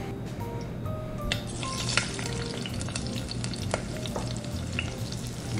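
Fry bread dough sizzles in a deep pot of oil, a steady close crackling hiss with scattered pops and bubbling throughout, no voices.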